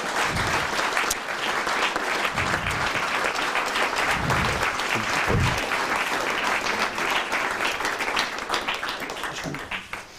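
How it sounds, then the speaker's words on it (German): A hall audience claps steadily for a researcher stepping forward to receive her certificate at a university academic ceremony, dense sustained applause that fades slightly at the end. "sie hat nochmal einen extra großen Applaus verdient, während sie nach vorne tritt und ihre Urkunde entgegennimmt"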